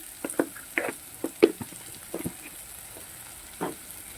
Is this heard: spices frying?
yes